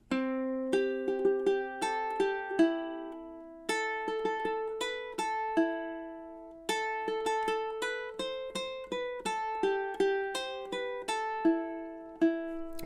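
A ukulele picks out the Whiskey in the Jar melody with a pickup bar, plucked notes in a steady lilting rhythm, close and clear, played alone with brief pauses between phrases.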